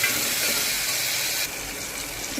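Chopped medium tomatoes drop into a hot frying pan for mutton salna, setting off a loud, dense, continuous sizzle that eases slightly partway through, with no talking.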